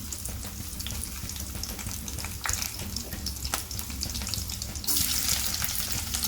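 Sliced onions go into hot oil with a bay leaf and sizzle loudly and continuously up close, with stirring scrapes and a brighter burst of frying near the end.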